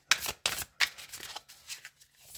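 A deck of cards shuffled in three quick, close riffling bursts, followed by softer rustling and handling of the cards, with no talking.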